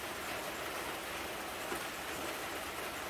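Rain falls steadily outdoors in a dense, even hiss. It holds a constant level throughout, with no voices.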